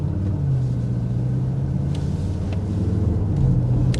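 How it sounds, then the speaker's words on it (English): A 2024 Mercedes GLS 63 AMG V8 in comfort mode gives a steady, subdued low engine drone with a smooth hum, heard from inside the SUV and holding fairly constant throughout. "Yeah, the engine definitely quiets down."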